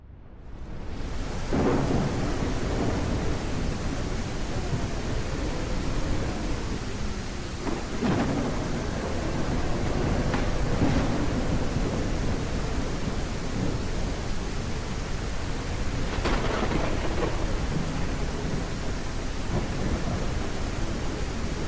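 Heavy rain pours steadily throughout a thunderstorm in The Isle video game, with several deep rolling thunder rumbles breaking through the constant downpour.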